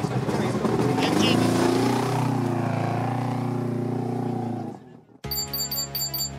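A rally car engine running rough on only three cylinders drones steadily at close range from onboard for several seconds, then cuts out abruptly into near silence before a different sound starts.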